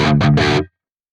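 Electric guitar through the Archetype: Gojira X amp with the presence control turned down gives a warmer distorted tone, heard as three quick chugged chord hits, loud and close, that stop sharply.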